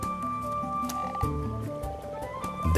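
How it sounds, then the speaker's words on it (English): Common frogs croak during spring spawning in shallow water, a soft pulsing chorus of low croaks running steadily under background music. "And the common frogs feel spring fever too."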